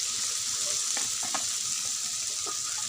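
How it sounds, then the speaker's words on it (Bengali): Fish sizzling steadily in a pan of spiced masala, a soft continuous fry with a few faint stirring clicks, close by, with no talking. "মশলা কষানো হয়ে গেছে, আর মাছ দিয়ে দেবো।"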